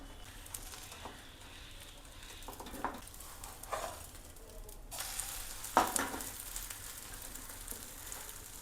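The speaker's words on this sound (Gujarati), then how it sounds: "થોડું ઉપર બે ટીપા તેલ મૂકી અને આપણે એને ટર્ન કરી લઈશું" Wheat pudla frying in a little oil on a pan over medium flame, a soft continuous sizzle with occasional scrapes and a louder hiss partway through, close and quiet, with no talking.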